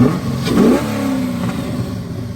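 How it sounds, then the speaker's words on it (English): A Corvette LS V8, a 408 stroker, revs loudly nearby, one rising and falling surge of engine roar followed by a steady rumble. "Look at that LS motor."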